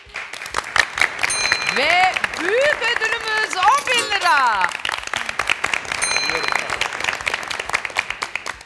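Studio audience applause on the Turkish family quiz show Aileler Yarışıyor, a steady, moderately loud patter of many hands lasting several seconds while a host talks over it.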